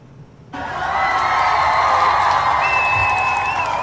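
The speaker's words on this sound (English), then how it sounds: "give everybody a round of applause, especially those born on Umoja" A crowd at an Umoja celebration breaks into applause and cheering for the Giammi family, a sudden loud wash of clapping with shouts and a whistle, sustained close by.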